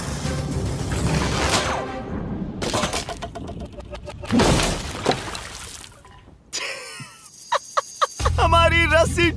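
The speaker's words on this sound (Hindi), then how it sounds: "हमारी रस्सी टूट गई और सारा पानी जमीन पर बह गया।" A heavy bag of water drops as its rope snaps and the water gushes onto the ground in an abandoned city, giving loud bursts of crashing and splashing, with a near voice speaking between impacts.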